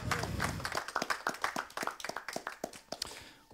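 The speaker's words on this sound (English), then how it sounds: "Please clap." A small audience claps after a presentation, a brisk run of close, crisp handclaps that thins out toward the end.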